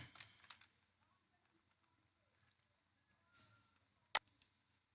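Keys on a computer keyboard clatter in short sparse bursts of clicks as text is typed, with a sharper tap near the end, quiet and close against near silence.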